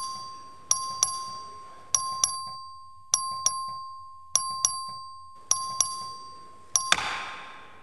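A voting bell rings in the Texas House chamber, a steady series of sharp metallic strikes in close pairs, repeated about six times over a sustained electric hum, ending with a final strike and a brief wash of noise.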